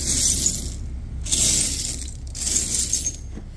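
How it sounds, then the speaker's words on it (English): Broken glass cullet at a glass recycling plant shifts and clinks in bright, crunchy bursts, three loud surges of tinkling shards with brief pauses between, no voices. "This is Cullet."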